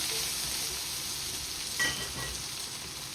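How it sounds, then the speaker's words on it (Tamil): Green chillies and garlic sautéing in a pan for restaurant-style sambar give a steady, moderately quiet sizzle and crackle throughout, with a brief stir or scrape near the middle and no talking. "இதையும் நல்ல வடிவாக வதங்கிட்டுருக்கோம்."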